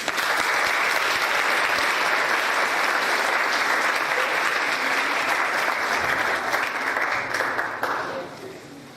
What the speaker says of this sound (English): Let's receive Sister Veronica with a warm round of applause.